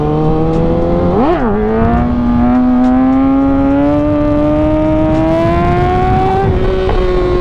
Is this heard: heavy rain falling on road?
no